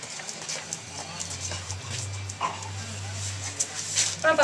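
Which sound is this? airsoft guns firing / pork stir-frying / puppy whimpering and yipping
puppy whimpering and yipping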